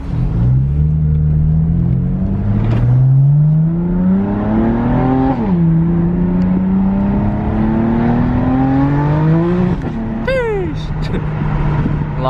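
A car on HRE wheels in Orlando accelerates hard, its engine note climbing steeply through two gear shifts with a loud, close, full-throttle roar.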